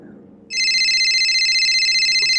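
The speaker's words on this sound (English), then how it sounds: "Why does my phone keep going off?" A telephone bell starts ringing abruptly and keeps trilling loudly and continuously, a rapid electronic warble close by.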